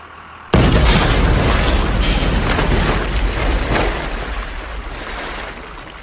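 Sound effect of a bus crashing into water: a sudden loud boom followed by a sustained roaring rush of churning water that slowly fades.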